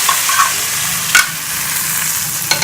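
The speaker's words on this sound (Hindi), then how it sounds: "हम इसके दाल के ऊपर तड़का लगाएंगे।" Hot oil tempering (tadka) sizzles and crackles steadily as it is poured over masoor dal, with a couple of sharp spitting bursts as it hits the lentils.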